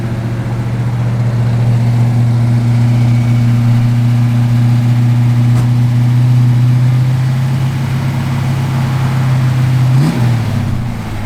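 A 1971 Ford Mustang Boss 351 engine idles with a steady low hum, loud and close, then revs up briefly near the end before settling again.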